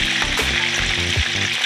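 Shrimp sizzle and crackle in hot oil, a steady dense frying hiss, close and constant, with faint clinks from the pan.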